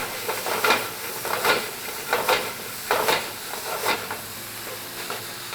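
Raw garlic and parsley picada sizzles in a hot pan, a steady frying hiss with repeated bursts of louder crackle as it is stirred, close and alone.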